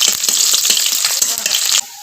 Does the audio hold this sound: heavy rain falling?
no